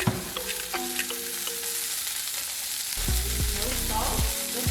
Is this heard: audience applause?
no